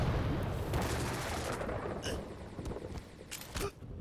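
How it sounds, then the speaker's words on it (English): Nail gun fire in an arena duel video game, quick repeated sharp shots over a steady background of game noise, moderately loud, with a few distinct impacts near the end. "A nail gun."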